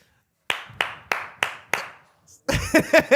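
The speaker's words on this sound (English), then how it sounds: "Damn, I was the only one that clapped" A single person claps five times at a steady, unhurried pace, each clap sharp and close, then a burst of excited talking follows.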